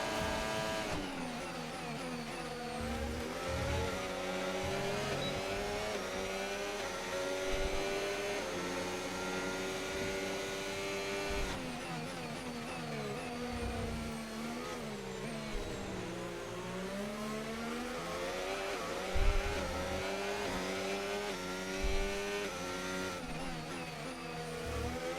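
A Formula 1 car in the F1 25 racing game screams along continuously, its high engine note climbing and falling through gear shifts and corners, with occasional thumps and no talking.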